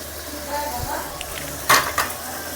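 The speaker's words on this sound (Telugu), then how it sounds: "బాయిల్ చేసుకుని పేస్ట్ చేసుకున్న గోంగూర వేస్తున్నానండి" Boiled gongura paste goes into a sizzling pan of boti curry, with a steady fry hiss, a soft rustle and then a sharp wet splat and clatter as the paste lands, followed by a smaller knock.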